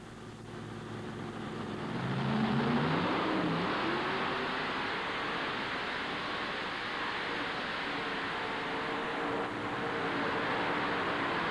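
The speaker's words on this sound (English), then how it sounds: "the nation's 7 best modified dragster tractors, and we're ready for the action to start" Modified dragster tractors run at a 1988 NFMS tractor pull. A loud, sustained engine roar swells in the first few seconds with a rising whine, then holds as a broad, unbroken blast with no talking.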